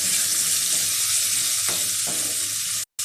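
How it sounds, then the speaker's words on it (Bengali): Turnip pieces for a hilsa curry are stirred in a hot pan, giving a continuous close sizzle with a few scraping strokes before the sound cuts out. "দিয়ে দেওয়া হবে শালগম, নাড়াচাড়া এখানে করে নেব"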